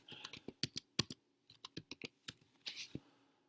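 Someone types a password on a computer keyboard, a close run of crisp key clicks in quick bursts with a short pause midway, ending in a heavier press, with no voice over it.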